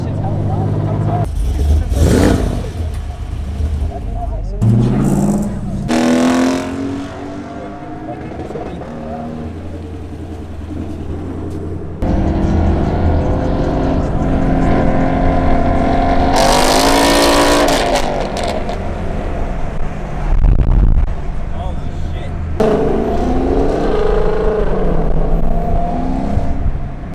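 A freshly tuned Ford Mustang 5.0 V8 roars and revs loudly nearby, rising and falling in bursts, with people talking over it throughout.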